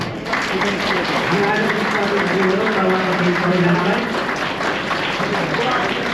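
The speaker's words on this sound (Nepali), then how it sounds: "उहाँलाई हामी विशेष जोरदार तालीबाट उहाँलाई धन्यवाद दिनेछौँ" Sustained, loud applause from an audience at a silver jubilee program, thanking a departing guest; dense, even clapping fills the whole stretch with a faint murmur beneath it.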